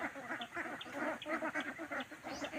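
A flock of domestic ducks feeding in a rice field, quacking steadily and overlapping at close range, a busy continuous chatter with no talk.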